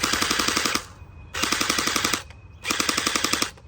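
Three bursts of rapid, evenly spaced automatic fire from an Anstoy M4A1 electric airsoft rifle in stock form, each lasting about a second, with short pauses between them, close and loud.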